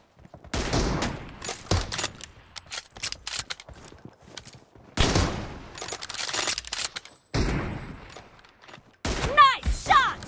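Gunfire in PUBG Mobile team deathmatch, several loud, close bursts and single shots broken by pauses, with voices talking over and between them.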